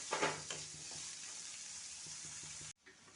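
Onions fry gently in a pan over a low flame, giving a soft, even sizzle with a few stirring scrapes early on before the sound cuts off abruptly near the end.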